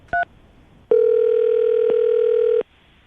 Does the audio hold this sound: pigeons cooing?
no